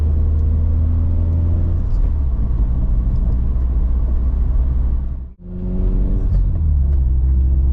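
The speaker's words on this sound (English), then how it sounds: "this car will run in first gear at 20 miles an hour" A car's engine idles and pulls steadily in first gear at about 20 mph, a loud continuous low rumble and whir from inside the cabin, with a brief dropout near the end before the drone resumes.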